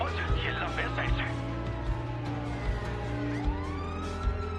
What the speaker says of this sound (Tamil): சைரன் ஆன் பண்ணிட்டு அவனை துரத்திட்டு போ.